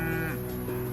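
A dairy cow moos in a long, loud, close bellow, calling for her missing calf at a farm animal sanctuary, with no other voices.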